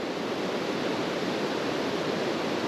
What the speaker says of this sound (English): Here we see Stevens Creek winding through a rugged, rock-laden glacial riverbed.